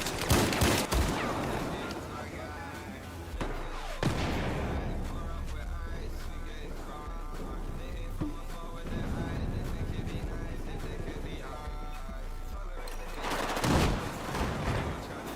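Gunfire from a gun in a first-person video game, with loud bursts at the start and near the end over a steady bed of music and game noise.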